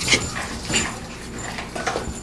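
A dog whimpers in short, thin high whines, fairly faint against a steady background hiss indoors.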